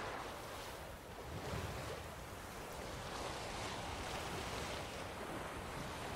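Boat sailing over the sea in The Witcher 3, a steady wash of waves and surf with wind rushing across it, even and unbroken throughout with no voices.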